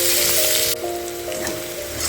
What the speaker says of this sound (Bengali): পেঁয়াজটা একটু খানিক্ষণ ধরে একটু একটু মোজা অবধি ভাজবো